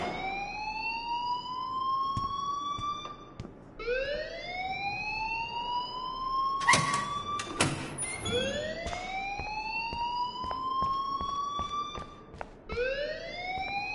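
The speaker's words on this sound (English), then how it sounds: "please turn off that alarm since that's your job" A wailing siren-like alarm in Life is Strange sweeps upward again and again in rising tones, loud and repeating, with a sharp clatter of bursts partway through.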